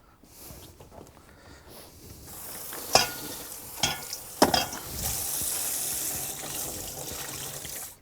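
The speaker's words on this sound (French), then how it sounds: "je vais passer tout à l'eau" Garden vegetables and cabbage rinsed under running water for a Savoyard soup: a steady splashing water rush that builds and grows louder, with a few sharp clunks and knocks mixed in, close by.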